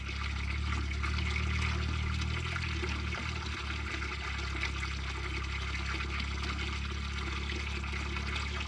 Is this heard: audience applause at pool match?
no